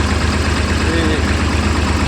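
A tractor engine runs steadily on a farm, a loud continuous low idling rumble with a faint knock throughout and no pauses.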